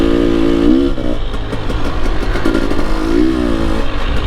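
A GasGas motorcycle engine revs hard and loud at close range, the pitch rising and falling in two or three throttle sweeps over a constant rough mechanical clatter.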